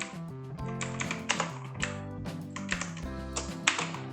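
Typing code on a computer keyboard, a steady run of quick clicky keystrokes with irregular rhythm, close and clear under faint background music.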